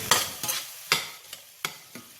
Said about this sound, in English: And I'm going to just stir it real quick.